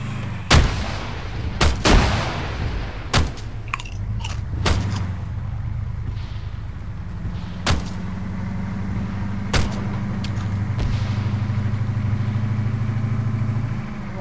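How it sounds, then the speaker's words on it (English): Heavy enemy gunfire from a big gun in a vehicle combat video game, a series of loud, sharp blasts spread irregularly over a steady rumbling vehicle engine. "Wait, they're shooting at us."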